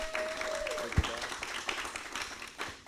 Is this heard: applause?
yes